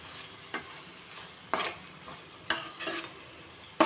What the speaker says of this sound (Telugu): నేను దోసకాయ మటన్ కూర వండుతున్నాను ఫ్రెండ్స్.